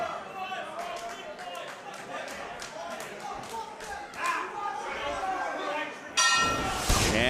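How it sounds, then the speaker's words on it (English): At a pro wrestling event, a bell rings to start the match, giving a bright, loud clang near the end over steady crowd noise and commentary. "And the bell is off, and we are starting with Kyle Fletcher and Jonah"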